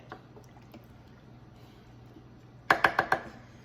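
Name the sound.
stirring slow cooker chicken chili with tomato sauce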